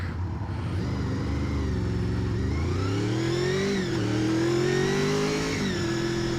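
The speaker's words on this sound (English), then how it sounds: "you're joining me on my first impressions ride of this 1987 Honda VFR400" A 1987 Honda VFR400R NC24 motorcycle accelerating on a ride: the engine note climbs steadily through the revs, then drops briefly at gear changes before rising again. The sound is close and loud throughout.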